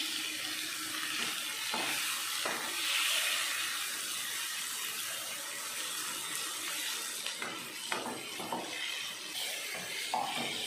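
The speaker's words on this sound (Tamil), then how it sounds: "தக்காளி வெங்காயத்தை நல்லா வதக்கிடுவோம்." Tomatoes and onions sautéing in a pan while cooking a Tamil sorakkai kollu kulambu, a close, steady sizzling hiss broken by a few brief scraping or stirring knocks, with no talking.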